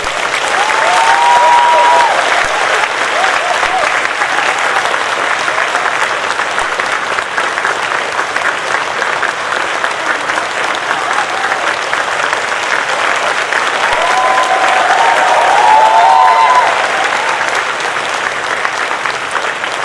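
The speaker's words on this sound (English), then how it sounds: "May I ask everyone to clap your hands for yourselves and for me." A large standing audience at a 2019 provincial State of the Province address claps steadily for about twenty seconds, a dense, loud wash of applause that swells slightly near the end and continues without pause.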